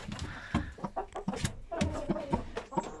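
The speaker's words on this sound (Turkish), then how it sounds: "Çok güzel bir horoz." A rooster clucks and calls in a series of short, loud bursts close by, with brief harmonic squawks breaking through the noisy farmyard.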